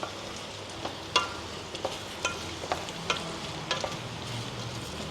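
Eggs stirred into a frying tomato curry in a pan: a soft continuous sizzle with a string of clinks and scrapes from the spoon at an uneven pace.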